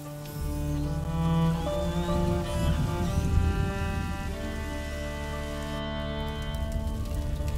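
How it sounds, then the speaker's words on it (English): Steady rain falls in the video game A Plague Tale: Innocence, a continuous soft patter underneath sustained musical tones, with no voices. "would you mind if we get out of the rain, please?"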